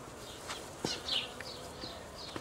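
Honeybees buzz around a beehive kept by a hobby beekeeper, a soft continuous drone of many insects with individual bees whizzing past close by now and then, fairly quiet and with no talking.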